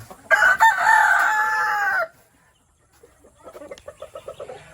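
A Texas gamefowl hen gives a long, loud, drawn-out call, then after a brief pause follows with a rapid series of soft, rhythmic clucks, close by and with no voices.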